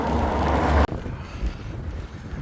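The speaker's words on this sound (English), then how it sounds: "Welcome back to this windy day. Still fighting a headwind." Wind buffets a microphone during a bicycle ride into a headwind, a loud low rumble that cuts off abruptly, leaving a steady quieter gusty hiss.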